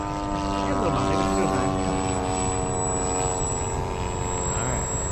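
A radio-controlled P-47 Razorback model airplane flies overhead, its engine whining in a sustained tone that swoops in pitch as it passes, loud and continuous outdoors.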